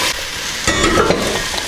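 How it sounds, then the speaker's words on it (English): Flour-dusted beef for an Italian beef stew goes into a pan of sizzling onions, a loud close frying hiss that surges as the meat lands, no speech. "just start adding the beef to the onion."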